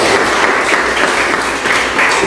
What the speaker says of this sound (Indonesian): tepuk tangan buat teman kalian Dedi